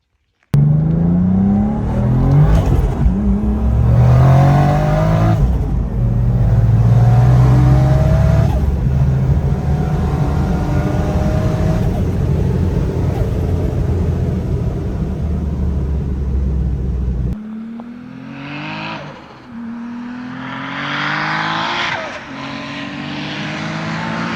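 A turbocharged BMW E36 running a 2JZ engine and making 800 wheel horsepower revs hard, loud and close, with rising and falling engine pitches through most of the stretch before a shift to sharper, higher revving near the end.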